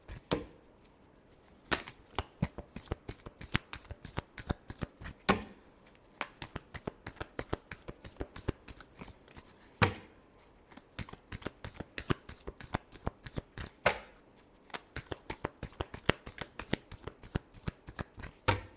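A deck of tarot cards shuffled by hand over and over during a reading, a long stream of fast, close riffling flutters broken by short pauses between rounds.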